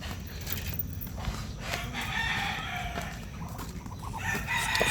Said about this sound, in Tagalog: Tayo mga manok rito.